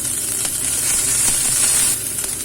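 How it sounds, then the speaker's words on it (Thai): Pounded chili paste of chili, coriander and shallots fries in a pan, giving a loud, steady close sizzle with faint stirring scrapes and no talk. "เอาเครื่องลงน้ำผัด"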